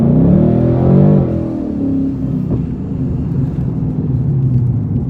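Vortech-supercharged 2018-2020 Mustang GT driving on the road, with a loud, steady engine rumble and drone from inside the car that swells briefly early on, then holds an even cruise.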